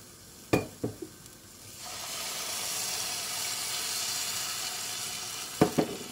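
A full glass of water lands in a hot pan. A few sharp clatters come first, then a loud, steady hiss and sizzle that lasts several seconds, and a couple more knocks follow near the end.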